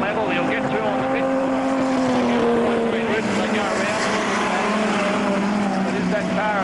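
Speedway race cars at a 1990 Mildura Speedway meeting roar through the Deakin Avenue corner, their engines loud and close with pitches sliding as they pass, under a commentator's voice.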